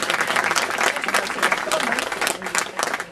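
An audience claps for a senator, the mayor of Le Bourget, arriving at a campaign office inauguration in Aulnay-sous-Bois. The dense, loud applause is continuous and close, with voices mixed into the crowd.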